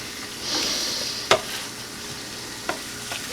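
Schafer bologna fries in butter with garlic, a steady close sizzle punctuated by a few sharp scrapes of the spatula.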